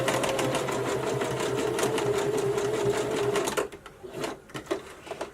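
A sewing machine stitches elastic casing in a steady, fast, close run of needle clatter for several seconds, then slows into a few uneven bursts before stopping.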